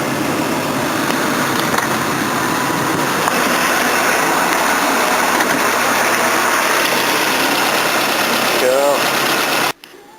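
A Toyota Corolla engine idles with the air conditioning running, a loud, steady mechanical drone and hum close to the microphone that holds continuously before cutting off abruptly near the end.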